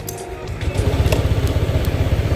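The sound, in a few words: Honda Click 160 scooter engine running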